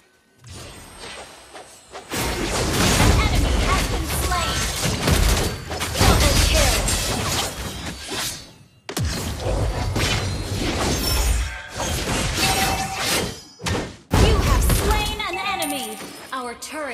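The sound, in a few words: turret being destroyed in Mobile Legends video game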